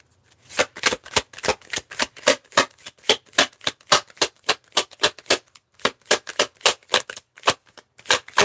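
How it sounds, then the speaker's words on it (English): Tarot cards shuffled briskly in a rapid, steady run of crisp riffling slaps, about three per second, close and clear with no talking. "I don't even shuffle like this normally"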